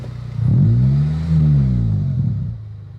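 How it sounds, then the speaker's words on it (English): An Acura RSX Type-S with an aftermarket exhaust revs twice in quick succession, its engine note rising and falling loudly and close by, with a steady idle rumble before and after. "Let me just rev it for you guys"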